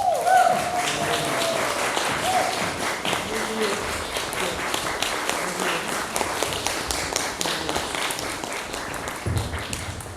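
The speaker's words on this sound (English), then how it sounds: "Let's give another round of applause for our actors." Sustained applause from a theater audience for the actors of a one-act play, a dense steady wash of many hands clapping throughout, with voices mixed in underneath.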